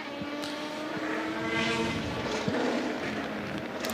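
Number 37 race car pulling away from the pit lane, its engine a steady mid-level drone with faint tonal whine, set against busy circuit background noise.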